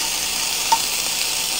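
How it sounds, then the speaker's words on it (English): Steady, bright sizzling of green onions frying in a hot pan, constant and close, with one faint click partway through and no voices. "just let it sizzle a little bit"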